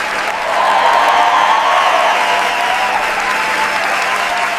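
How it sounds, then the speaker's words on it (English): Theater audience applauding during a performance of the comedy Our American Cousin, dense steady clapping from a large crowd that swells after a quiet start and holds loud throughout, with a hint of laughter mixed in. "The theater filled with laughter and applause."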